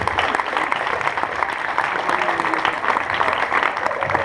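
An audience at a kids' beginner 4vs4 hip hop dance battle final applauds the parents, a busy wash of clapping and crowd noise with faint voices mixed in underneath.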